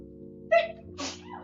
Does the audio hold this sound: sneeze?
yes